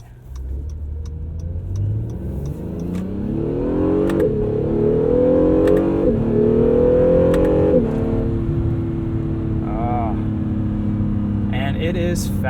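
A 2017 Acura NSX engine revs up through the gears from inside the cabin, pitch climbing in several sweeps with brief dips between shifts, loud and close, with a voice speaking over it.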